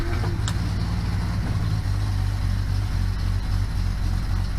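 A classic car just out of restoration idles steadily after its first start, with choke on and in neutral; a low, even engine rumble runs loud and continuous throughout with no talk.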